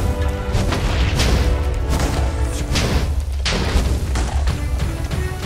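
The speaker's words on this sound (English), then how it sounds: "He's shooting some kind of bomb." Bomb blasts in the video game Minecraft, a loud, continuous rumble of booming thuds close by with no pause between them, and no talk.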